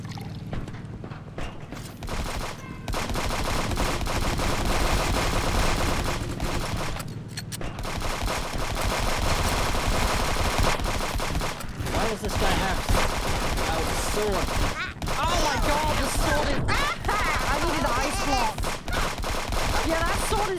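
Turret machine-gun fire in the game Friends Vs Friends, a dense, rapid crackle of automatic shots running almost nonstop and loud, with brief gaps and a voice talking over parts of it.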